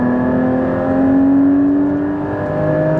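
A 2016 Porsche GT4 engine revs steadily with its exhaust valves open, a loud, close, continuous harmonic drone that swells slightly in pitch and volume without any speech over it.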